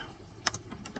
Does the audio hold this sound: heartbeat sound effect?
no